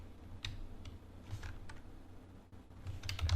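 Someone typing on a computer keyboard in short, scattered bursts of soft clicks, with a low hum underneath and no one talking.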